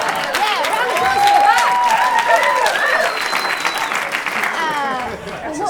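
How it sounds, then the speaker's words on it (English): Theatre audience bursting into steady applause and a few cheers at a comedy show in The Boulevard Theatre, dense clapping sustained throughout with voices and laughter mixed in. "round of applause"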